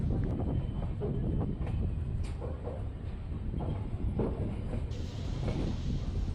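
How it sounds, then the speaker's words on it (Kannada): A train pulling away from Holenarasipura railway station on the Mysore to Chitradurga route, a low rumbling roll of wheels with wind buffeting the microphone, steady and close, no talk. "ಹೊಳೆನರಸೀಪುರದಿಂದ ಹೊರಟಿದೆ ನಮ್ಮ ಟ್ರೈನು"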